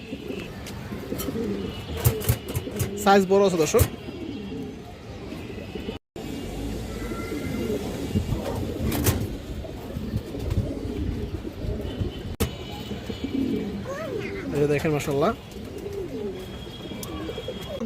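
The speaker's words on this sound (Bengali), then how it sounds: "3 পিস গররা মাদি কবুতর আছে মাশাআল্লাহ, একদম ফুল ফ্রেশ কবুতর" Gorra female pigeons coo in soft repeated bursts nearby, with several call bouts spread across the stretch and someone talking in between and over them.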